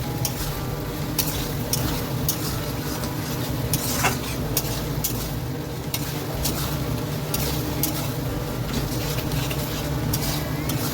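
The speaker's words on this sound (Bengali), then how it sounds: "এবার ভালো করে নাড়িয়ে নেবো" Chilli chicken being stirred in a sizzling pan, a steady frying hiss broken by repeated scraping clicks of the spoon against the metal, close and continuous throughout.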